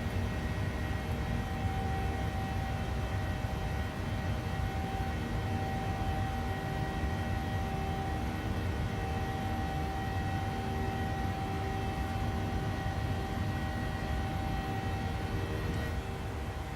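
A PMDG 737-800 jet takes off in Microsoft Flight Simulator from runway 23 at Toronto, a loud steady engine roar with a high whine, continuous and unbroken.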